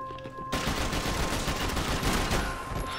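Dense, rapid gunfire from a shooter match in the video game Max Payne 3 multiplayer erupts after a short lead-in and rattles on continuously, loud and close.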